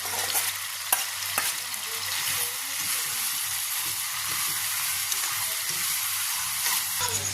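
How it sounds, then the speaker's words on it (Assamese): Chicken sizzles loudly in a hot wok with onions while being stirred, a steady crackling hiss with occasional scraping clatters and no talking. "তাৰপিছত এয়া চিকেনখিনি কেৰাহীত দি দিছে।"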